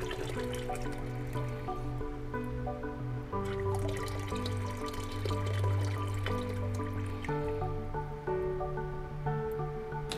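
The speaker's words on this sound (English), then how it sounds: "And when the water level drops, the valve will continue to refill the water tank." Water pours steadily into a tank through an automatic float valve with a top inlet, a continuous close trickling and filling sound with no talk.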